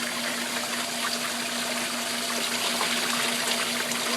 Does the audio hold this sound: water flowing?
yes